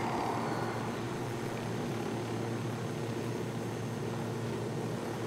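An enemy helicopter in Ghost Recon Wildlands drones steadily throughout, a constant rotor and engine roar at moderate distance with no break.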